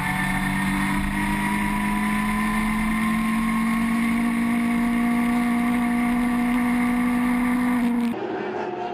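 A Kia Super Seven racing car drones loudly and steadily through an overtaking move at the Jarama circuit, its engine note climbing slightly before cutting off abruptly near the end.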